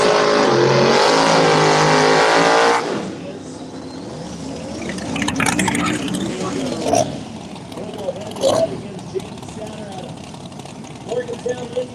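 No-prep drag racing with a 1968 Camaro and a 1985 Mustang GT big block: a loud engine roar fills the first seconds, then cuts to a quieter crowd and track murmur with scattered knocks and bursts.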